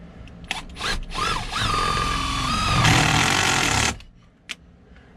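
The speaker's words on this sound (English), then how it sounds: "So let me grab my screw gun and some screws." A screw gun drives a screw into a roof-mount awning bracket on a camper, a loud, steady whirring buzz lasting several seconds that rises in pitch and strain toward the end before cutting off abruptly, with no talk.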